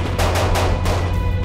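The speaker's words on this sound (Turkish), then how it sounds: "Ya silah sesleri ne?" Rapid gunfire rings out in a loud burst of several closely spaced shots, sharp and near, with no voices.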